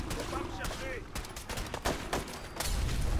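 Bursts of gunfire in Fallout 4's Far Harbor, rapid shots crackling amid game noise and a speaking voice, fairly faint overall.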